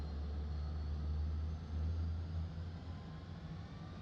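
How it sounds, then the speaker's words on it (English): F-15E Strike Eagle jet engine spinning up during a cold start in the DCS flight simulator, a low steady rumble with a faint rising whine, quiet and continuous with no talk. "Should hear the engine start to spin up now."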